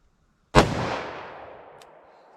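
A single .357 Magnum revolver shot fired single action from a short barrel, one sharp loud blast with a long decaying echo, alone outdoors.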